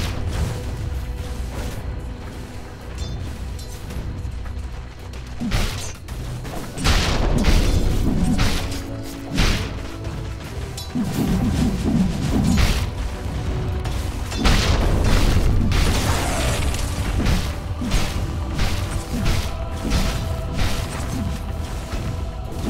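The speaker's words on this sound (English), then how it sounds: "Radiant's bottom tower has fallen" A tower crumbles in the Dota 2 battle game amid scattered in-game booms, crashes and clanking effects, with several heavy thuds and bursts spread unevenly across a busy battle soundscape.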